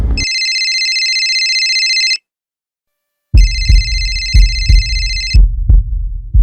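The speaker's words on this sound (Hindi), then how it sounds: "मैंने विजय को शाम 4:55 को फोन किया।" A telephone rings in two long electronic trills separated by a pause, loud and steady, with rhythmic low thumps beneath the second ring.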